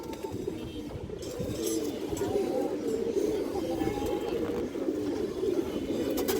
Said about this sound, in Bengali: খুব সুন্দর কবুতর মাসাল্লাহ